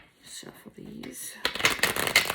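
Oracle cards from the Hidden Truth Oracle deck are shuffled in a quick burst of crisp riffling after someone speaks briefly.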